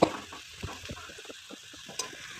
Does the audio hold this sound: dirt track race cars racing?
no